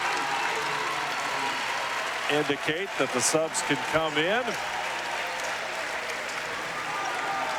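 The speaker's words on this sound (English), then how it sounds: "Nice round of applause there by the Marion local fans that are here tonight" Marion Local fans at a boys district final basketball game give a sustained round of applause filling the gym, a steady crowd clapping under a commentator's voice speaking over it.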